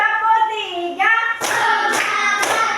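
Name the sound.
class clapping a counted ice-breaker clap pattern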